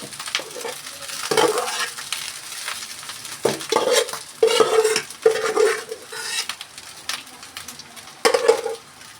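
Spoon stirring egg fried rice with carrot in a hot pan, with repeated scraping strokes and clinks against the metal in an uneven rhythm over a soft sizzle, close and fairly loud.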